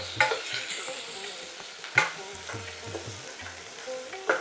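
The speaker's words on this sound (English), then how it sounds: "green chilies which we chopped before and curry leaf which we chopped. Let it cook nicely." Chopped green chilies and curry leaves fry in a pan with a soft steady sizzle, broken by occasional clinks and scrapes of a stirring spoon against the metal, close and fairly quiet, with no speech.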